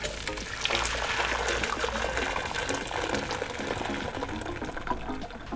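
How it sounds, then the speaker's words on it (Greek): Water pours and splashes steadily for several seconds, a continuous close rush as boiled gluten-free pasta is drained through a strainer. "Σουρώνουμε τα ζυμαρικά μας."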